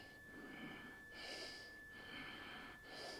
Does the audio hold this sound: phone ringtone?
no